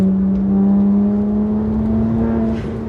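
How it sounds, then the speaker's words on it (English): A steady, low exhaust drone from a modified BMW 1M with an HMS exhaust cruising along, a constant hum with a mild whir on top and no voices. "Exhaust, the HMS exhaust is great. A little bit of drone"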